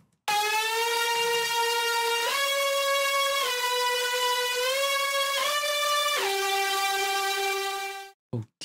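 Melodic dubstep synth lead with no group effects, a dry, harsh sawtooth-like tone with dense harmonics, stepping through several long sustained pitches with brief glides, loud and alone until a sudden cutoff.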